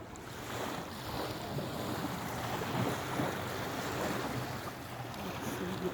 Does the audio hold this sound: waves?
yes